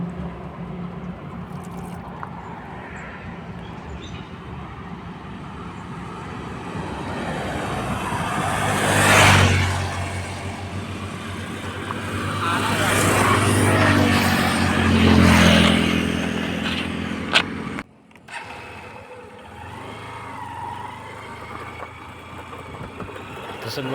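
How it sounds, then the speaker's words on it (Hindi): A car engine drones steadily while driving, swelling louder twice as it accelerates, then dropping away briefly near the end before the running hum resumes. "अब गाड़ी हो गई स्टार्ट और हम चलत हन कोरबा पर"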